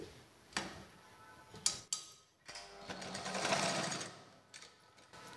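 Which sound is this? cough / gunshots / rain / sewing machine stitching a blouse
sewing machine stitching a blouse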